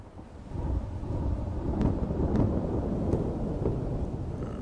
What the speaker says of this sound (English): Sounds like a nasty storm coming this way.